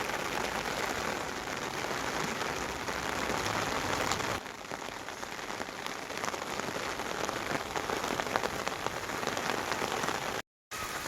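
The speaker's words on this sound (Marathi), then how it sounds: "मित्रांनो पाऊस चालू झालेला आहे बघा परत न तुम्ही बघू शकता." Heavy monsoon rain pours down in a flooded village, a dense, steady patter drumming on surfaces without a break.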